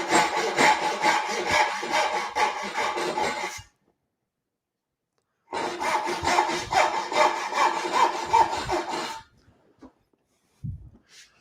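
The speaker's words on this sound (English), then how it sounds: "So I'm going to just set up here and do a little bit of quick sawing." Hand saw cutting the waste between dovetail pins in a wooden board for curved dovetails, two bursts of quick, steady rasping strokes, close and clear, separated by a pause, with a faint tap at the end.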